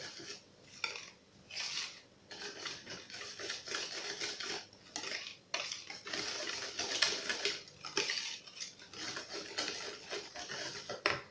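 Cake batter with peanuts and milk is mixed in a bowl, producing a run of quick rhythmic scraping and clinking strokes of utensil against the bowl, fairly close and without talk.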